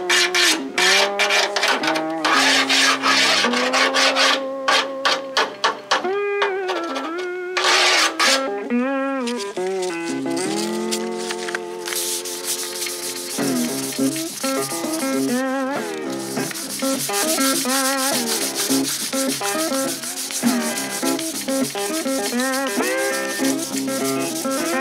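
Hand rubbing through the painted body panels of a V8 Model A hot rod down to the red oxide primer: repeated squeaky, scraping strokes in uneven bursts, close and fairly loud, with no talking.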